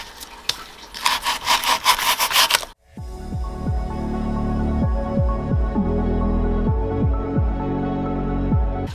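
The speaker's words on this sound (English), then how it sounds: "we're just going to keep carving and keep carving and keep carving until the background is completely" A textured background for a 40-gallon bioactive corn snake terrarium is carved by hand, with a burst of quick rasping strokes followed by slower scraping and gouging passes, close and steady.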